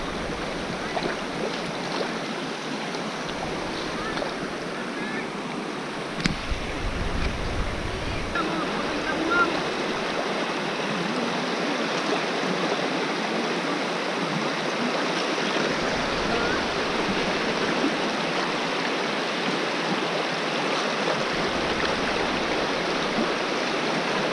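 Steady rushing of flowing river water close by, continuous and full, with faint voices in Filipino now and then underneath.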